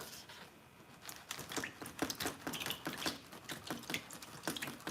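Water runs from a tap in a steady, faint splashing stream with irregular patters and drips, heard up close with no talking.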